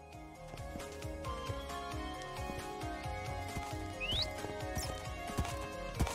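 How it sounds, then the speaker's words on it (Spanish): Horse in the Minecraft video game, its hooves clip-clopping in a steady rhythm with a brief whinny over layered game music and ambience. "Mira el caballo."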